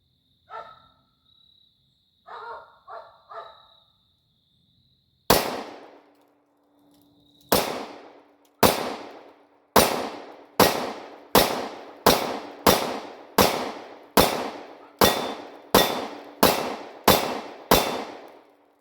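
A Ruger Security 9 pistol fires at a target about 10 yards away: a dozen loud, sharp shots at a steady, quickening pace, with a few faint clicks and clanks before the first shot.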